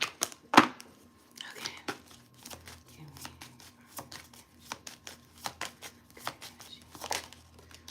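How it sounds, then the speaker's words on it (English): Tarot cards riffle and flutter in quick bursts, with one sharp snap near the start, handled close by in a quiet room. "So we're going to shuffle them again, okay?"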